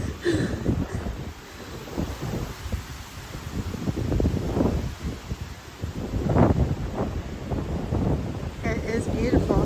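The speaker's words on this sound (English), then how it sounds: "It's so windy up here." Strong wind buffets the microphone on the Molly Knob summit in Hungry Mother State Park, Virginia, in rough, gusting low rumbles that rise and fall throughout, with faint voices briefly heard through it.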